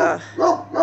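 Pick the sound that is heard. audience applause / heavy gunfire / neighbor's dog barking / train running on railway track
neighbor's dog barking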